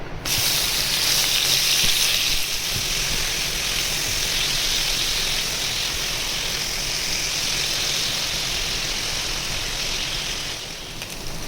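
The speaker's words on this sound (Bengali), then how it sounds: "এর মধ্যে মুরগির মাংসের কিমাটা দিয়ে দেবো।" Minced chicken fries in a hot pan with a loud, continuous hiss and sizzle that starts abruptly and holds steady before easing slightly near the end.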